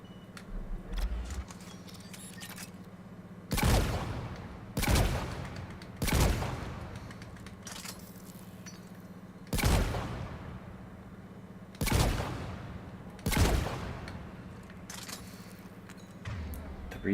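Assault rifle fire in the video game Mass Effect comes as sharp, evenly spaced single shots, about one every one to three seconds, moderately loud against a quiet hum.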